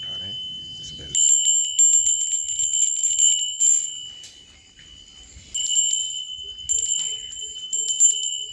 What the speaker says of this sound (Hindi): हम सुबह 5:30 बजे बच्चों को उठा रहे हैं इस बेल से